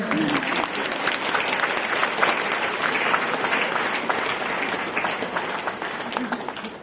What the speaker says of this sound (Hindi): ताली बजाओ ना।